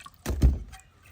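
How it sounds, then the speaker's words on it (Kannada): Two quick splashy swishes of water in a container as finger millet is washed, close and fairly loud, followed by a softer trickling tail. "ನೀರು ಹಾಕಿ ಒಮ್ಮೆ ನೀರು ತೆಗೆದು ವಾಪಸ್ ವಾಪಸ್ ನೀರು ಹಾಕಿ ತೊಳಿಬೇಕು"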